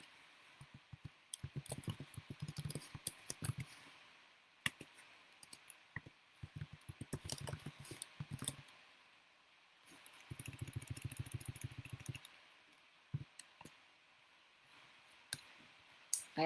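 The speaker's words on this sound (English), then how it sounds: "I will actually start typing the links in here" Computer keyboard typing in bursts of quick, close clicking keystrokes, pausing briefly between runs of links being entered, with no talking.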